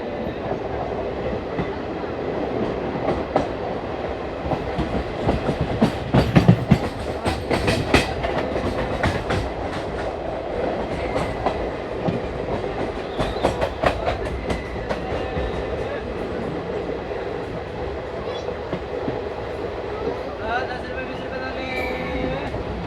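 Delhi Fazilka Intercity Express rolling out of Karnal station, its steady rumble and rhythmic clickety-clack of wheels over rail joints carrying on throughout, with occasional sharper knocks and metallic squeals.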